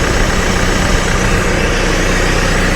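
Cat TL1055C telehandler diesel engine idling steadily after a turbo repair, a loud, continuous low rumble with dense broadband noise and no break or change in pitch.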